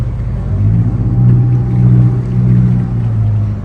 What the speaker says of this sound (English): Engines sound good.